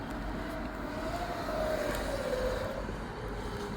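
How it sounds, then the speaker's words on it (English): A dirt bike engine revving on a street as the rider pulls a wheelie, a rising and falling whine at moderate distance over steady background noise. "Somebody's doing a wheelie on a dirt bike."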